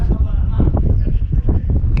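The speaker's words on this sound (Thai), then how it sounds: "บรรยากาศดีครับ ลมเย็น" Cool wind blows across a microphone outdoors on a motorbike day trip around Phu Sap Lek and Khok Salung in Lopburi. It makes a continuous low, rumbling buffet, with a voice talking over it.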